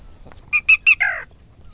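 Marsh bird calls of a black rail played back from an MP3 player through a speaker, a quick series of three sharp chirps followed by a longer descending note, loud and clear over a steady electronic whine.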